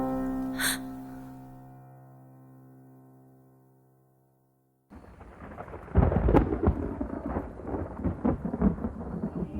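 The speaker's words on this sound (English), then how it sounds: "Thunder rumbled high above the trees" Thunder in a storm heard as a long, low rumble that slowly fades to near silence, then a burst of heavy rain and crackling, booming thunder crashes close by.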